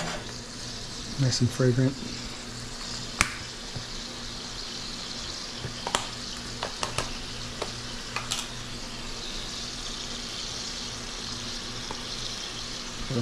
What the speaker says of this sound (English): Now I'm going to start cooking some bread.